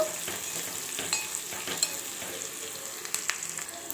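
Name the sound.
stirring chat mixture with turmeric and salt in a pan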